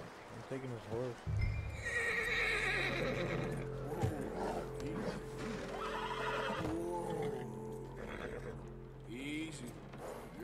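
A horse in the video game Red Dead Redemption 2 whinnies loudly up close, in snow, followed by snorts and hoof clops, with a voice speaking at the start.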